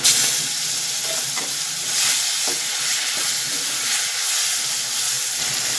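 Turmeric and ginger-garlic paste with curry leaves sizzle and spit in hot oil in a pan, a steady close frying hiss with occasional stirring scrapes, no voices.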